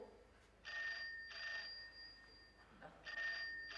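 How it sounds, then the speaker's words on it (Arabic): A telephone rings in a room, three electronic trilling bursts with short pauses between them, fairly quiet and heard alone. "انا هرد على التليفون"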